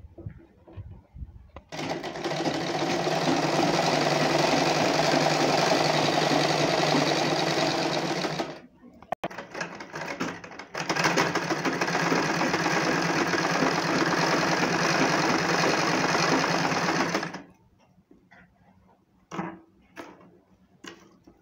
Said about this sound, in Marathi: आता याच्यावर आपण अशी शिलाई मारू